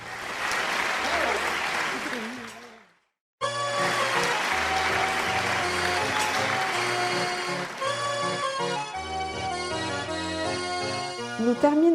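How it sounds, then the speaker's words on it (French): Audience applause at a small amateur theatre show, a broad wash of clapping that breaks off briefly before resuming, then gives way to music with voices over it. "Et on applaudit bien fort,"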